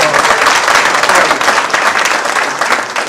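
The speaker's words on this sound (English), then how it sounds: "Let's give her a round of applause." Dense, loud applause from the crowd at a parish basketball banquet, a continuous wash of many hands clapping close by, holding steady before easing slightly at the end, with no voices over it.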